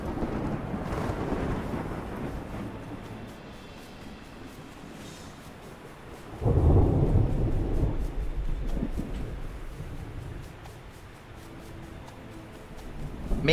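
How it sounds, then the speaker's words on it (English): Thunder rumbles during a storm in the video game Smalland: a low, broad roll swells midway and fades over a steady wash of rain and wind. "Another storm, really?"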